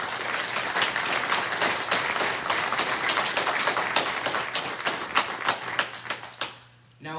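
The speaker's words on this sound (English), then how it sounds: "Please join me in giving these students a round of applause for their outstanding performance." Sustained audience applause for students at an FFA banquet, dense steady clapping from a crowd that fades out near the end, with no talking.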